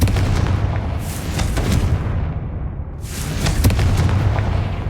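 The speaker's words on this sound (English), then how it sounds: "Confringo. These eggs must be destroyed." Confringo fire spells blasting spider egg sacs in the video game Hogwarts Legacy, two loud booming bursts about two seconds apart, each with a deep rumble and a crackling tail.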